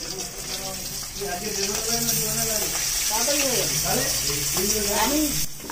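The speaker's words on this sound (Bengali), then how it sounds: "কি করছো গো মাছ ভাজছো না" Fish frying in a pan gives a steady background sizzle, largely covered by a voice talking over it.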